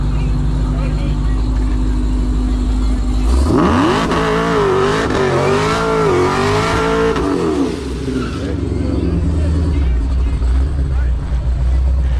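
A Dodge Hellcat Redeye engine revs hard at a drag race, rising into a loud, wavering high-rpm roar for several seconds before dropping back to a rumbling idle, with voices underneath.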